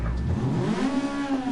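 A rally car engine in the racing game Dirt Rally 2.0 on an Argentina stage revs steadily for a moment, a close, rising mid-pitched drone with no talk over it.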